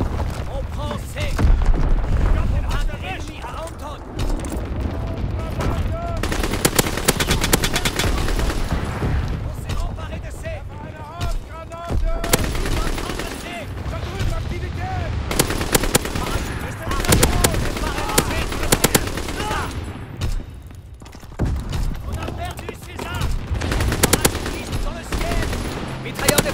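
Rapid machine gun bursts in a Call of Duty World War II match on the Shipment map, dense rattling volleys and scattered gunshots recurring near and loud across the clip, with a player talking over the action.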